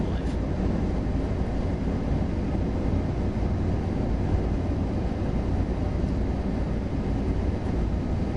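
Train Sim World 5 on PS5 on the Kassel–Würzburg high-speed line: a steady, loud rolling rumble of a train braking, with continuous low roar and no distinct squeal, filling the whole stretch without pause.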